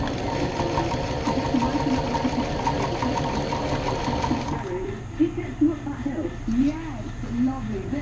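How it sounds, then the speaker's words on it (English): A sewing machine top stitches vinyl covers for Mk1 Golf door panels, a steady close mechanical whirr that runs continuously for several seconds, then stops as a voice speaks over lighter background noise. "I've sewed the covers together and I'm just top stitching the vinyl now."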